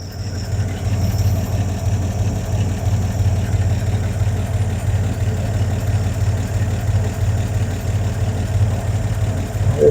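A 1952 Chevy six-cylinder 235 idling with a dead miss, a steady close low rumble that runs without a break and carries a faintly uneven beat.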